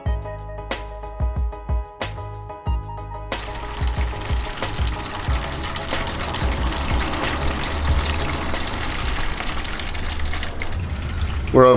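Petrol drains from the fuel tank of a BMW E30 into a 12-litre bucket, a steady rushing, splashing gush of liquid that starts abruptly after a few knocks and clanks and continues loudly to the end.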